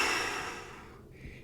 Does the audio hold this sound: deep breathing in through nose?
yes